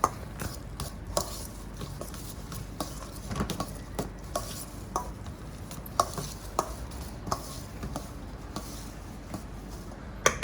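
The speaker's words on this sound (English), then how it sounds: "just going to take a spoon, break the ricotta up a little bit, get it all mixed in together" A spoon breaks up and mixes ricotta in a bowl, with repeated close, sharp scrapes and taps against the bowl at an uneven rhythm under a soft, steady background hiss.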